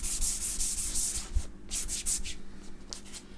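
Metal on a Hoover 800 is wet sanded by hand with soaked 400 grit sandpaper, giving close, rhythmic rubbing strokes in quick repeated passes with a low background hum.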